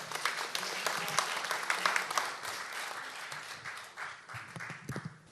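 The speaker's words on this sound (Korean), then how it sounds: "여러분 큰 박수로 환영해 주십시오." An audience at a Korean public debate on resident self-governance legislation claps to welcome a presenter, a dense, moderately distant patter of many hands that holds steady for several seconds with faint voices mixed in.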